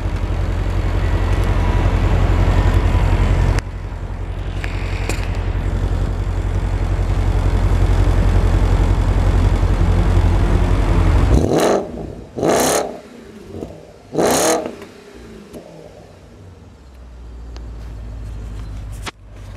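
A black 2013 Porsche Panamera GTS recorded close to its blacked-out exhaust tips: a steady idle rumble with a brief cut, then three sharp, loud revs that rise and fall in quick succession before settling back to idle.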